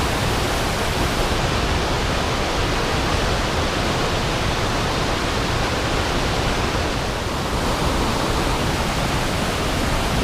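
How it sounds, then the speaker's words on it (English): Steady broadband rush of the Roaring Fork River flowing near a campsite in Lincoln Gulch, Colorado, a continuous loud wash of water without pause and with no voices. "there's Roaring Fork River"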